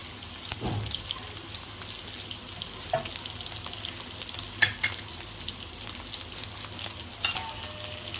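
Onions frying in hot oil in a kadhai for dumba karahi, a steady close sizzle with occasional stirring clinks and scrapes and no voices.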